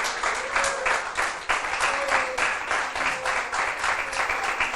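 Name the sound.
congregation applauding in church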